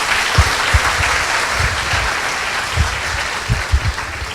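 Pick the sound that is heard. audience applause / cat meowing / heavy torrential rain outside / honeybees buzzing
audience applause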